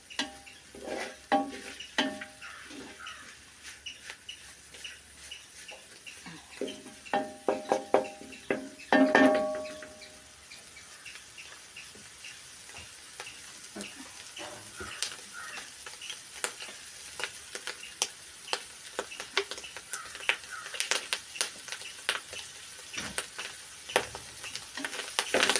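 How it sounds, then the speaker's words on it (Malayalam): Clam meat fries in a pan of hot oil, a steady crackling sizzle running throughout with scattered sharp pops, and a brief louder burst of stirring or clatter near the middle. "ഇച്ചിരി കൂടെ എണ്ണ ഒഴിച്ചാലേ വറുത്തെടുക്കാൻ പറ്റുള്ളൂ"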